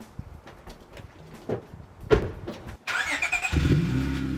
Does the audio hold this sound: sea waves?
no